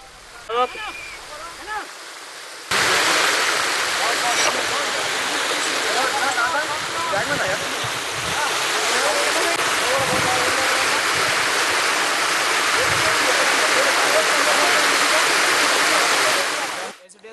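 The Kataki waterfall, about 350 feet tall, pours as a steady, loud roar of rushing water. Brief quieter moments with a voice come first, and the roar then continues without a break.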